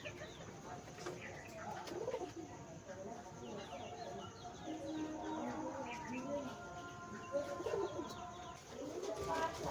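Madras pigeons coo in low, repeated calls throughout, steady and fairly close, with other bird chirps and faint background voices mixed in.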